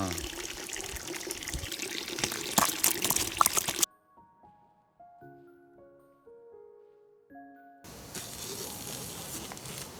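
Water pouring and splashing while freshly caught pond fish are washed clean, steady and close at the start and end, broken by a short stretch of music in the middle.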